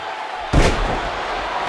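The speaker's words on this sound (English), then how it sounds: "And did you hear the impact on that kick?" A heavy kick landing in a wrestling video game match, one sharp slamming thud followed by a crowd murmuring in the arena.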